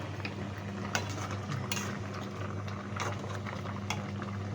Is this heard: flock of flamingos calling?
no